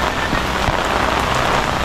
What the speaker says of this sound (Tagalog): Ang lakas ng ulan, kaya napupuno kasi nga walang tigil.